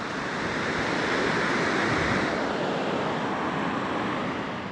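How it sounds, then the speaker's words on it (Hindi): Water rushes beneath a spot in the Warwan Valley of Kishtwar, a loud, steady broadband roar that stays close and continuous with no voices. "भाई बहुत ज़्यादा ख़तरा है यहाँ पे, क्योंकि इसके नीचे से पानी जा रहा है।"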